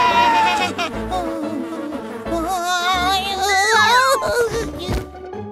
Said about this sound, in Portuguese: Os mosquitos são tão irritantes.